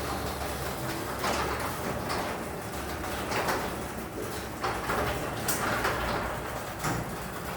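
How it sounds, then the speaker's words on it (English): A garage door with newly replaced springs grinds along steadily as it moves, its cables clicking and clanging, with popping and metallic clanks scattered through the continuous mechanical rumble, close and fairly loud. "the door makes a lot of popping, but you can hear the cables clicking and clanging"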